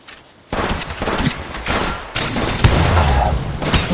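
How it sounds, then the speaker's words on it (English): Gunfire in the battle-royale shooter Apex Legends Mobile: a sudden burst of rapid shots kicks in after a quiet start, then more loud, close volleys with thuds and impacts in a busy firefight. "I'm taking the shot"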